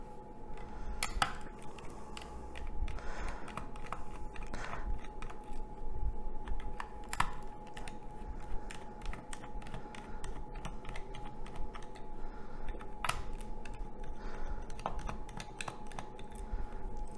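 Small tri-wing screws being undone on a Game Boy Advance SP, a steady stream of faint clicks, taps and light metallic ticks close by, with no talking.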